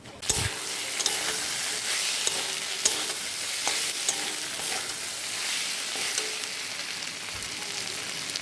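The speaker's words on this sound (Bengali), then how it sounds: "মশলাটা দিয়ে অনেকক্ষণ ধরে কষিয়ে যখন মশলাটা কষে আসবে তাতে ভেজে রাখা আলু আর সয়াবিনগুলো দিয়ে দেবো।" Fried potatoes and soybeans in a spice masala sizzle steadily in a pan while being stirred, with continuous loud crackling and periodic scraping sweeps, close up and with no talk.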